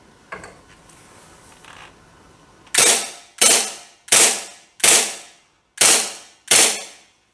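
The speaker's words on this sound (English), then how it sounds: "now I'm going to try and just fire a couple as they are," A WE Tech Glock G19 airsoft pistol fires six sharp, loud cracks at a steady, roughly evenly spaced rhythm after a brief quiet handling noise at the start.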